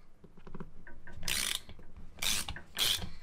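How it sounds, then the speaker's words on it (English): A hand ratchet with a 27 mm socket clicks through strokes while loosening the base fittings on a brake master cylinder reservoir of a Toyota Celica RA23. It gives three bursts of quick pawl clicks, close and fairly quiet, with no talking. "27 mil socket should get these base ones off."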